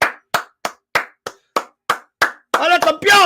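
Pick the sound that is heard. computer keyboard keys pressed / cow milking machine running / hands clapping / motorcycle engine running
hands clapping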